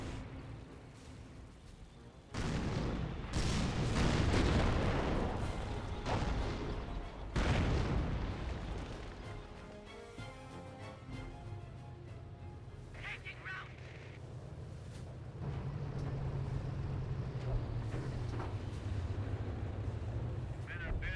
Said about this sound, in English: I hear some artillery running in back here. Looks like a creeping barrage.